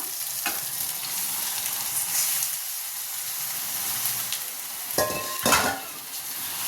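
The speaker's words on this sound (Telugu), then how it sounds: "ఇప్పుడు కలిపి పెట్టుకున్న చికెన్ వేసుకుందాం" Marinated chicken hitting ginger-garlic paste in a hot pan for a home chicken curry, giving a steady close sizzle and hiss with a couple of brief stirring scrapes and clatters toward the end.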